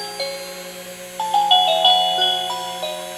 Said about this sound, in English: You can hook the little fan in with it and the bell if you want.